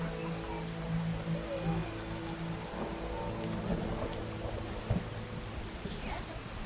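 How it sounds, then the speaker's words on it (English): Steady rain pours over the Temple Quarter of Vizima in The Witcher, a continuous hiss of drops on streets and roofs at moderate level, with a low tonal hum underneath and a few brief louder splashes. "Oh, when will this rain stop?"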